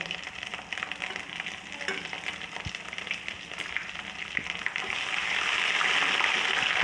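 Crushed garlic and ginger paste fries in a pan, giving a steady crackling sizzle with scattered pops that grows louder and denser toward the end, close and alone.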